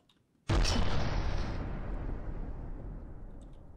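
A single loud cannon blast in the naval combat game From the Depths, an abrupt boom followed by a long rolling decay that fades over several seconds.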